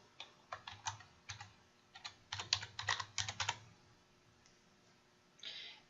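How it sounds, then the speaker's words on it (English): Rapid bursts of keystrokes on a computer keyboard entering questions and answers into flashcards, close and clear, with clustered clicks and short pauses, then a brief softer rustle at the end. "you can type in questions and answers here"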